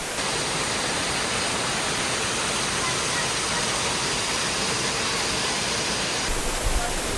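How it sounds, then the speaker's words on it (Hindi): Bhagsunag waterfall in McLeodganj roars as a dense, continuous rush of falling water heard from close by, loud and steady, with faint voices beneath. "सामने वाटरफॉल है।"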